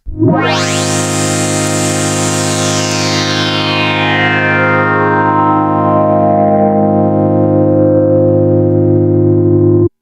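A Yamaha CS70M analog synthesizer holds a sustained, rich chord as its filter sweeps down from bright to mellow, loud and alone, with a long smooth decay in brightness.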